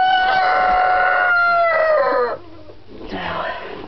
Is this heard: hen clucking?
yes